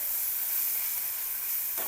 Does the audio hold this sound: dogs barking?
no